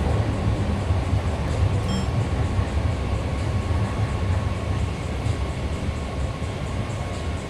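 A BART Yellow Line train bound for Antioch rumbles steadily in a San Francisco station, a loud, continuous low roar and rolling rail noise with no talk over it.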